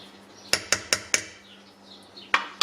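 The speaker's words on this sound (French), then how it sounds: "Donc pareil, entre chaque passage, je remélange. On délaye un petit peu." A spoon clinks against a bowl while Dijon mustard is stirred into a vegan sauce for Swedish-style meatballs, with four quick metallic taps followed by two more after a pause, close and clear.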